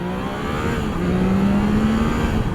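A 2022 Triumph Tiger 660 motorcycle engine accelerates hard, its steady rising drone loud and close from the rider's position, with no talking.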